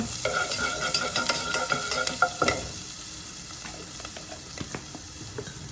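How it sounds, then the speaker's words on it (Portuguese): Garlic frying in lard in a pan on a stovetop, a steady close sizzle with frequent stirring scrapes and clinks, busier in the first half and settling to a quieter hiss afterward. "aqui eu vou fritar o alho. Olha o tanto de alho que ainda tem."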